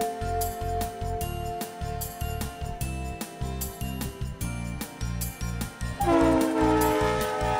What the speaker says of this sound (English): That sounds like a train's horn.